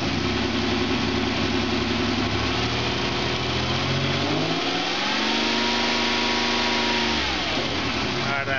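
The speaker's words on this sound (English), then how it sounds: "Alright, I got a lot better engine idle now." A car engine idles loudly and close during an exhaust back pressure test, with the pitch rising through a rev mid-clip before settling back to a steady idle.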